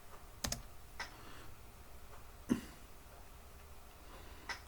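Keys on a computer keyboard tapped while entering a Linux password during a Linux Mint install, a few sparse, faint clicks spaced over a quiet room with no talk.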